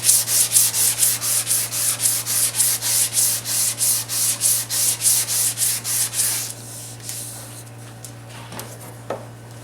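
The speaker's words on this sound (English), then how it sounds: "the card scraper here is getting a little tired" A dull, worn card scraper scrapes hardwood for a bookcase in about twenty quick, rhythmic rasping strokes, close and loud, then stops, leaving quiet workshop hum and a faint clatter.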